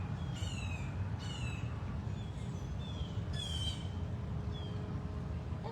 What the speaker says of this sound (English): Some very loud birds over in your area.